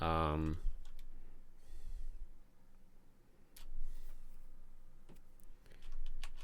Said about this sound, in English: Sorry, I'm thinking while I'm typing this.